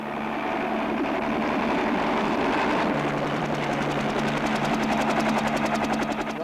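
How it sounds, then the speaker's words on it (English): Helicopter rotor chop thumps steadily and loudly, the rapid beating growing more distinct partway through over a dense mechanical roar. "A helicopter."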